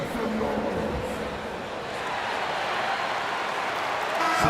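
A crowd at a simulated Warriors versus Timberwolves playoff basketball game roars and cheers in a steady, dense wash that swells slightly toward the end, with a faint arena voice underneath.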